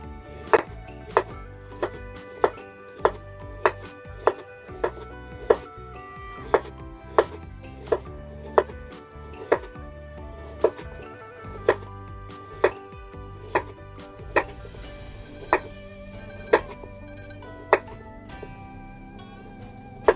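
A knife chops carrots on a cutting board in a home kitchen, with steady, evenly spaced sharp knocks repeating about every half second, close and clear, with no talk.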